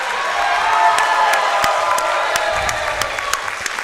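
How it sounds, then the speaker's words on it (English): A crowd at a powerlifting meet roars with sustained cheering and applause for a lift, with dense clapping and scattered shouts and whoops held at a steady, loud level throughout. "that was the loudest cheer of the day"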